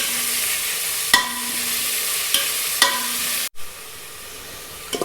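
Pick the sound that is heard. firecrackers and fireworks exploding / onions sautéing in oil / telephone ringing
onions sautéing in oil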